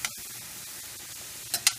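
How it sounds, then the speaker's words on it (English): Onions frying in a pan give a steady, soft sizzling hiss close by, with two short sharper bursts of spattering near the end. "Hear the sizzle."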